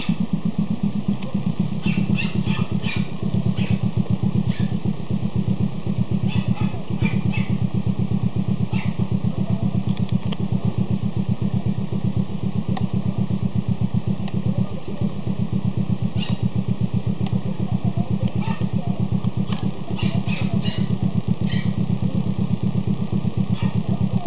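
A 2014 Honda BeAT 110 scooter idles steadily at close range, its engine and exhaust giving a continuous even putter with no revving throughout.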